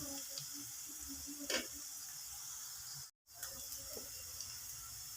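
Onions sizzle softly in a pan for egg fried rice, a faint steady hiss broken by a brief stir or clink and a moment of silence.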